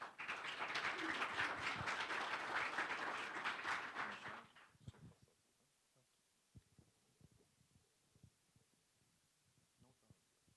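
Audience applause greets Robson, a logistics coordinator at Herculano, at a business event, a dense burst of clapping lasting about four seconds before cutting off into quiet room noise with faint scattered sounds.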